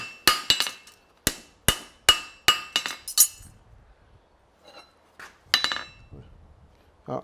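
A hammer rings against a steel horseshoe on an anvil as a hind preventer shoe is flattened during forging: about a dozen sharp, bright metallic strikes in a quick, even rhythm, a short pause, then a few more blows.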